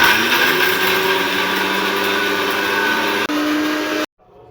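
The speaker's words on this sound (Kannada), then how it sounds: "ಇವಿಷ್ಟನ್ನು ಹಾಕಿ ಮಿಕ್ಸಿಯಲ್ಲಿ ಗ್ರೈಂಡ್ ಮಾಡ್ಕೊಬೇಕು" A kitchen mixer grinder whirring loudly as it grinds onion, coriander, mint and ginger, running steady for about four seconds, briefly dipping, then cutting off abruptly to near silence.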